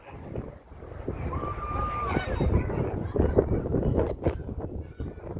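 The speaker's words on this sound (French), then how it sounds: "C'est pas évident parce qu'il y a du vent." Outdoor wind buffeting a microphone at a wildlife safari park, a steady low rumbling roar throughout, with faint voices and a brief whistling tone mixed underneath.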